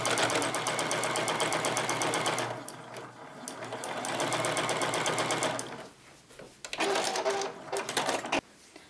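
An electric sewing machine stitches quilt fabric for a quilted tic-tac-toe game, running in rapid whirring bursts separated by brief pauses and slower stop-start stitching, close and clear with no talking over it.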